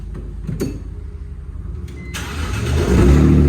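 A BMW 325Ci E46 engine with a new Y-pipe and exhaust tip cranks and catches near the end, rising into a steady rumbling idle after a few seconds of low background noise.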